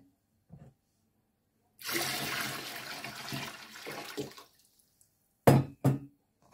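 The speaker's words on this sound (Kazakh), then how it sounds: "Енді осы тұзымызды су құйып ерітіп аламыз." Water pours steadily for about two and a half seconds to dissolve salt for pickling cabbage, then stops, followed by two sharp knocks close by.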